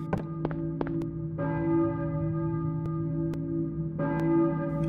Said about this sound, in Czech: kostelní zvon? Kdo na něj zvoní?